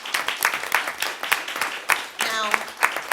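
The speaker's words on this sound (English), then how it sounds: "let's give them a round of applause." An audience applauds at a Detroit Police Commissioners meeting: scattered, uneven clapping from a modest crowd in a room that goes on for a few seconds, with a voice speaking briefly in the middle.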